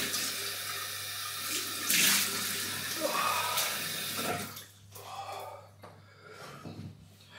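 Cold water runs steadily from a bathroom tap during rinsing after a wet shave, a loud, broad hiss that splashes and changes as hands and face move under the stream, then thins out near the end.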